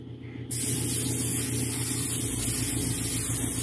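An airbrush sprays thinned Midnight Blue paint onto a 1/4-scale custom Thor sculpture, starting abruptly as a loud, steady close hiss with a faint motor hum beneath.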